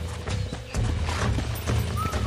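A horse in the Western video game Red Dead Redemption, with steady rhythmic hoofbeats clip-clopping up close throughout and a brief whinny near the end.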